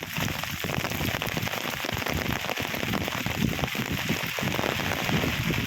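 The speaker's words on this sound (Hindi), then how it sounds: "भावनगर शहर और आसपास के इलाके में धुआंधार बरसात दर्ज हो रही है" Heavy rain pours down in Bhavnagar, Gujarat, a dense, constant hiss and patter of drops on surfaces, loud and unbroken for the whole stretch.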